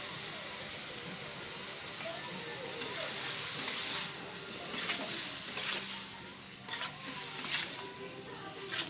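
Food stirred in a hot pan with salt and turmeric, a soft steady sizzle of frying under scraping stir strokes, with a few sharper clinks and scrapes throughout.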